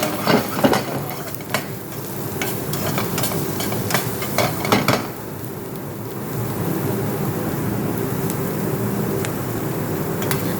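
Carrots being stirred and tossed in a hot wok for restaurant-style fried rice in a Dubai kitchen, giving a steady sizzling hiss with scraping stirs and clanks, busier in the first half and then a continuous frying roar.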